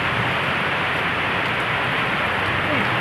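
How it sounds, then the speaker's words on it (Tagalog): Heavy rain pours down in a dense, steady roar, loud and unbroken throughout with no other sounds standing out. "Ang lakas ng ulan."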